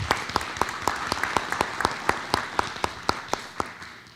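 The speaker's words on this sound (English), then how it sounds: "Give Ms. Warden a round of applause if you would." A small audience at a school board of education meeting gives a round of applause, sparse clapping with distinct sharp hand claps standing out in a regular rhythm, moderately loud and tapering near the end.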